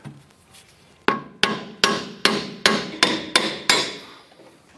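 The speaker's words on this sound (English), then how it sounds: "Might have to give it a few taps with the hammer." Eight sharp hammer taps on a clevis fork to free it from a vehicle strut, metallic strikes in a steady rhythm about every half second, loud and close with ringing decay and no talk.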